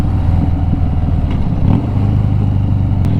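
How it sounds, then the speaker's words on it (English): A Harley-Davidson Fat Bob motorcycle engine rumbles steadily at idle, a loud, close, continuous low throb with slight mechanical clatter and no voices. "how much the bike rumbles and vibrates when you're stopped, when you're idling"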